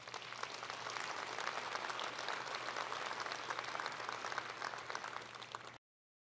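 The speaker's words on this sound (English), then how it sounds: "Please give yourselves a big round of applause." A roomful of people at the AZBio Awards applaud in a steady, dense patter of many hands, fairly even in level, before cutting off abruptly into silence near the end.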